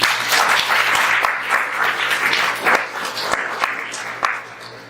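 Audience applause at an anti-racism community forum in Saint John, New Brunswick, a steady wash of clapping from a room of people holding for about five seconds, with a low steady hum beneath it.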